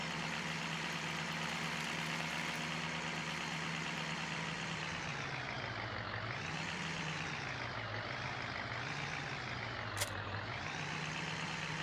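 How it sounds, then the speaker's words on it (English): A Ford truck engine in the Farming Simulator 17 video game drones loudly and continuously, its pitch dipping and rising as it accelerates, with no talk over it. "Truck. A little bit quick on the acceleration."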